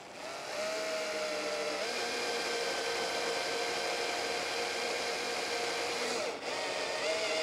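A drill bores a hole through wood for a breadboard end, its motor whining at a steady, fairly loud pitch that barely changes for several seconds.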